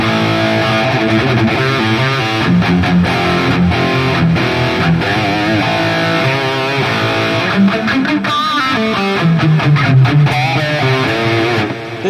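A heavily distorted electric guitar through an Engl Savage amp model on a Hotone Ampero plays a dense, saturated riff with chugging chords and bending notes, loud and continuous with no talking.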